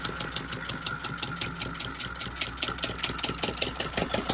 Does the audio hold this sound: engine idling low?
yes